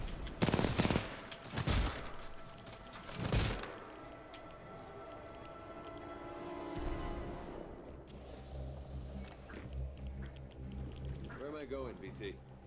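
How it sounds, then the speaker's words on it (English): Gunfire in Titanfall 2 opens with several loud, sharp shots spaced apart, then gives way to quieter rumbling and mechanical hum with a voice speaking over it. "I'm in the middle of shooting all of them repeatedly"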